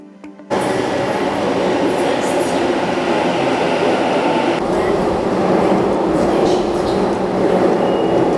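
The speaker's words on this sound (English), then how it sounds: "Definitely loving the metro here." A Sydney metro train rides along with a loud, continuous rumble and rattle. It bursts in abruptly after a quiet half second and holds steady to the end, with faint squeals and clatter mixed in.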